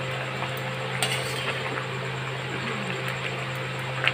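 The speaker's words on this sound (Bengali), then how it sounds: "এইভাবে একবার করে নাড়াচাড়া করতে হবে" Roasted spices for mango pickle are stirred in a pan, giving soft scraping and occasional light clinks of a utensil over a steady background hum, close and without talk.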